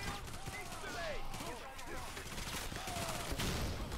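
Near-constant rapid gunfire in the video game Payday The Heist rattles on in dense bursts, with a voice briefly audible amid the shooting.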